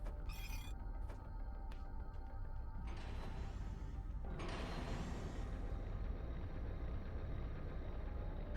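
Machinery grinds and creaks steadily as an elevator moves through a dark labyrinth in the Shadow Labyrinth game on Nintendo Switch, a continuous mechanical rumble with ratcheting, gear-like texture and a brighter surge midway, no talking.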